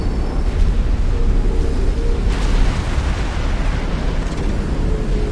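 Rumbling proton torpedo explosions in a Star Wars space battle in X4, a continuous dense roar of blasts and impacts with a sharper burst midway, loud and sustained.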